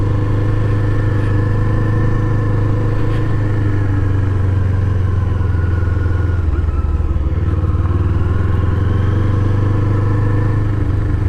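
A Kawasaki Eliminator 500 motorcycle on an afternoon ride, its engine giving a steady, loud mid-range drone with slight shifts in pitch as it cruises, and wind rumble underneath throughout.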